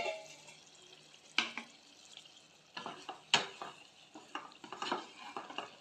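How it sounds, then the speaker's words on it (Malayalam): Prawn roast being stirred in a cooking pot, a spoon scraping and clinking against the pot in several sharp, close strokes over a soft simmering sizzle. "അടപ്പൊന്ന് എടുത്തു കൊടുത്ത് നമുക്ക് ഇളക്കി കൊടുക്കാവേ"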